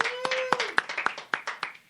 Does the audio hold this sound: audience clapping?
yes